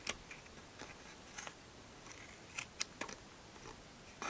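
Scissors snipping through material while building a homemade treat box, a few sparse, sharp, quiet clicks and cuts spread apart against a near-silent background.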